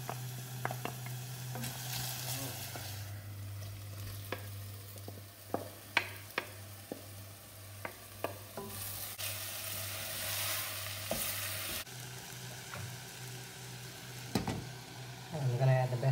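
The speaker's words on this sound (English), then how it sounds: "In goes the bay leaf and the garlic." Bay leaf and garlic sizzle steadily in a pan of onions, a soft continuous frying hiss broken by small pops and scraping stirs, with a low hum underneath.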